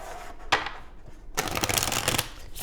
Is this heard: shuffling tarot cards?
yes